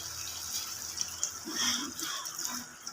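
Water is poured into egg curry gravy in a pan with a soft, brief splash and trickle, quiet against faint background noise.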